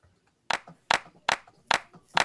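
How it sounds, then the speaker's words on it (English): Twerk-style clap drum sample played alone, five sharp dry claps repeating at an even, quick rhythm with brief silences between hits. "That's the twerk clap."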